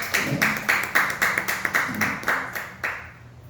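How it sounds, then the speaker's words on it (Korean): A small church congregation at an early-morning prayer service claps in a steady burst of about a dozen sharp, close hand claps that fade toward the end. "박수 한번 하세요. 박수."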